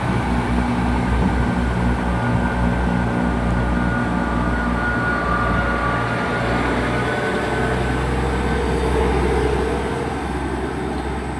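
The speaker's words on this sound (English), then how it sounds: "departing out now is the 1111 to Cardiff Central from Frome" Passenger train pulling out of Severn Tunnel Junction station bound for Cardiff Central, a steady, loud low rumble and engine drone that holds throughout with a gentle fade near the end, heard from the platform.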